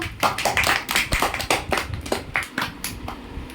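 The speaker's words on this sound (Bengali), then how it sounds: "হাততালি দাও" Children clap their hands at a Teachers' Day celebration, a burst of quick, uneven claps close by that runs without pause and with no talk.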